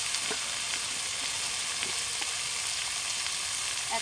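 Boiled potatoes and peas fry in a pan of hot oil for a vegetarian samosa filling, giving a loud, continuous close-up sizzle with faint scattered ticks and pops of stirring throughout.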